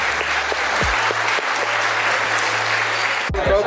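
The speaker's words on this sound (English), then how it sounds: "I want to give yourself an applause for showing up here early" A group of people applauds steadily in an indoor room, with loud, dense clapping, a low hum underneath and a couple of thumps near the end.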